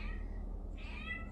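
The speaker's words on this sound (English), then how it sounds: "That's my cat meowing" A pet cat meows indoors, giving two soft, drawn-out calls, the second rising and a bit stronger, over a low steady room hum.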